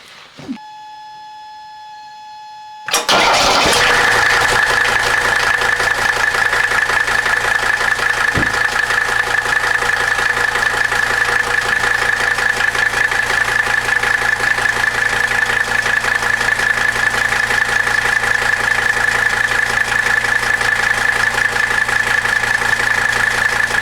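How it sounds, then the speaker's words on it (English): A Mercedes 300D car engine is silent at first, then cranks and starts about three seconds in, settling into a loud, steady idle with a constant hum that runs to the end, with no talking. "So let's go start the car and turn on the air conditioner and watch what happens under normal conditions."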